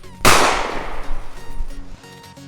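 A KN-44 assault rifle from Black Ops 3 fires a sharp, loud burst that rings out and decays over a couple of seconds, a close gunshot with no talking.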